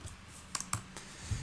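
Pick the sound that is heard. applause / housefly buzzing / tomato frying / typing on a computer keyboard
typing on a computer keyboard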